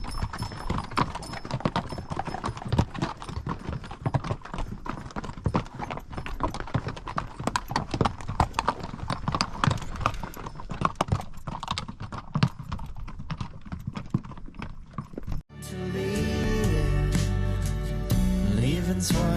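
Riders on horses walk the South Kaibab Trail down into the Grand Canyon, their hooves clip-clopping in a steady, close stream on the rocky path before the sound gives way to music near the end.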